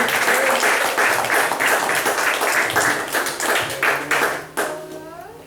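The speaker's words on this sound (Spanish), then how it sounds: "Denle un aplauso al Señor." A church congregation claps in a quick, steady rhythm for several seconds, then the clapping fades out.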